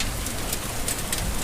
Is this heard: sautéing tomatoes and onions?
no